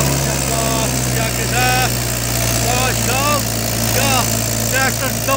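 Mahindra 575 DI tractor engine labouring under a fully loaded soil trolley, a loud steady low rumble running throughout, while someone talks over it in bursts.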